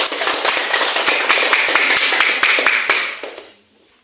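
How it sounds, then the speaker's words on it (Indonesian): Clapping in a classroom lesson: a crowd's loud, sharp claps with distinct individual smacks standing out, sustained for several seconds before stopping abruptly into near silence. "sekali lagi tepuk tangan dulu"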